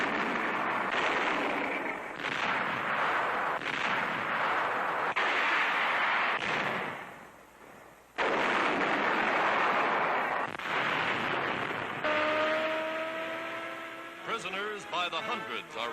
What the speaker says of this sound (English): Allied tanks and guns take up the fight